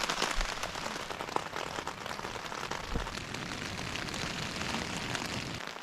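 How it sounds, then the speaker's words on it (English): Steady rain patters densely on a tarp shelter at a wilderness camp, a constant close hiss with scattered sharper drops and no talking. "now it's starting to rain harder"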